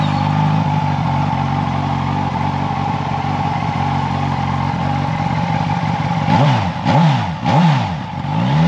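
A 2020 Suzuki Katana motorcycle engine idles steadily and close by with a low harmonic drone, then is revved in three sharp rising-and-falling blips near the end.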